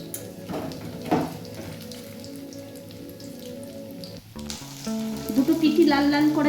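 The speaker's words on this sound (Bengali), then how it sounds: "দুটো পিঠি লাল লাল করে ভেজে নেওয়া হয়ে গেছে" Banana flower koftas frying in hot oil, a constant crackling sizzle that swells near the end as pieces are turned, with clinks of a utensil against the pan.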